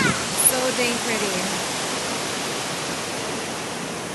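River water rushes steadily over exposed rocks at low water level, a loud, even, broadband roar that continues unbroken and close by, with no pauses or changes throughout.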